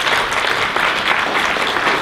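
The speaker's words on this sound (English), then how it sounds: "Let's give him a round of applause." Steady, dense audience applause for Jose Rivera as he is welcomed onto an outsourcing business panel, loud and continuous for the whole stretch with no talk over it.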